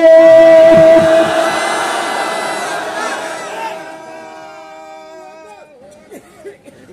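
Large crowd shouting a takbir chant in unison at a religious sermon gathering, a loud, sustained roar of many voices that gradually fades and trails off into scattered calls.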